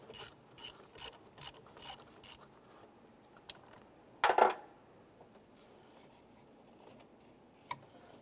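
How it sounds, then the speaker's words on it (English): A ratchet wrench loosens the positive terminal nut on a 1995-2001 Ford Explorer battery, giving a quick series of about seven crisp clicking bursts, then a louder rasping scrape and a lone faint click later, with no talk. "loosen and remove our positive terminal here"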